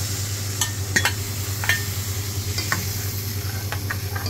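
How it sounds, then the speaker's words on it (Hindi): Hot oil tempering poured into kadhi crackles and sizzles steadily over a low hum, with scattered sharp pops and a few faint utensil clinks. "जो कढ़ी बना के रखे हैं उसमें हम तड़का डाल देते हैं।"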